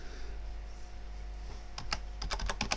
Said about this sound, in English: in the text box I'm going to type application button